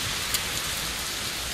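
Rain falls steadily outdoors while someone walks through it, a constant hiss of drops on surfaces with no talking.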